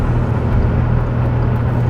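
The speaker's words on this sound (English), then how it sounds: "I want everybody to listen to the road noise of the car." Steady road noise fills the cabin of a Porsche fitted with a roof rack, a constant low rumble and whoosh at highway speed with no talking.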